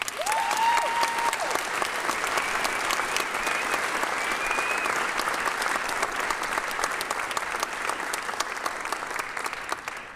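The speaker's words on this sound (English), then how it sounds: "Please give a big round of applause for all the award recipients and the awarding organizations" Audience at a 2023 high school senior awards ceremony applauding steadily for award recipients, a dense, even clatter of clapping that runs throughout, with a faint whistle early on.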